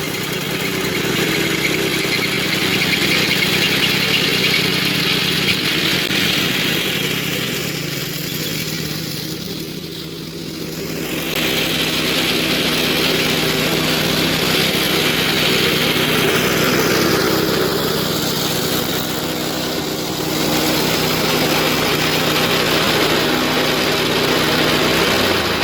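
A TECOmaster ride-on lawn mower engine runs steadily while cutting grass, a loud, continuous mid-pitched drone that fades slightly around the turns and then builds again, with no talk.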